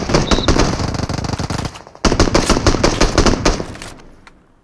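Rapid automatic gunfire from a shooter video game, loud and close, two sustained bursts of crackling shots separated by a brief gap, the second trailing off into quiet.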